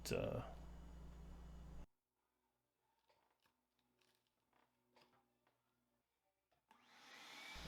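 A vacuum cleaner runs loud and close while cleaning chisel debris off a wobbly wooden coffee table under construction, cutting out abruptly, then starting up again after a stretch of faint shuffling and low talk.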